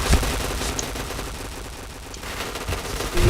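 Rapid bursts of automatic gunfire land headshots in the online shooter Point Blank, loud and continuous with dense overlapping shots across the whole stretch.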